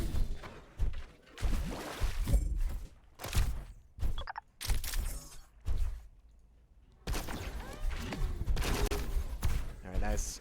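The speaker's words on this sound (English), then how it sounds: "Necro's just going to use the blaster to get the job done" Blaster fire in a Quake duel match, rapid energy shots and impacts in loud bursts separated by short pauses, with a commentator talking over the action.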